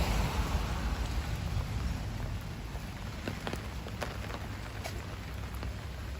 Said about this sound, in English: It's still raining steadily, but at least the torrential rain has stopped